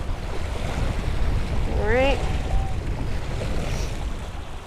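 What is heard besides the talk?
choppy sea waves on a beach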